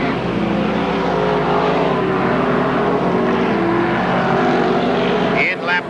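Modified race cars roar around the track during a 35-lap feature at a 1988 Merrittville heat, engines droning loud and continuous through most of the stretch, fading briefly near the end.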